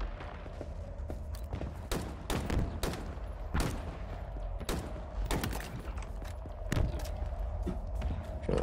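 Enemy sniper gunfire in the game Halo Infinite, campaign on Legendary, cracks out as repeated sharp shots at irregular intervals over a steady rumble of background game ambience.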